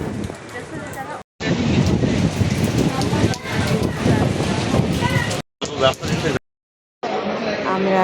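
Heavy rain pours steadily as a dense hiss at Cox's Bazar by the sea, with voices talking over it and a few brief breaks in the sound.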